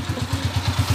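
A motorcycle engine idling after a connecting rod repair, a close, steady low throb with regular even pulses and no voices.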